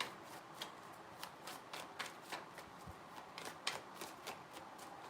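Tarot cards are shuffled in quick repeated riffling snaps, a steady run of crisp, close flutters with no talking.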